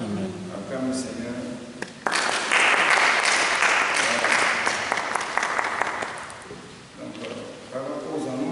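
A church congregation breaks into loud applause for several seconds, with talking before and after the clapping.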